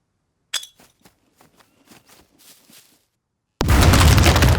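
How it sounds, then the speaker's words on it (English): A grenade in the survival game Scum blows through a base wall: scattered clinks and small clattering hits first, then a sudden loud blast that roars on as a sustained, dense rumble to the end. "with one grenade, I destroyed the wall"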